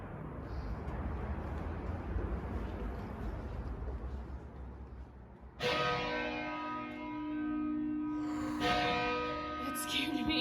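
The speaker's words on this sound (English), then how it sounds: "It is called a bell tower for a reason" Large bells in a 75-meter bell tower in Mostar suddenly start ringing up close after a stretch of windy rumble, their deep tolls sustained and very loud, with one more strike near the end.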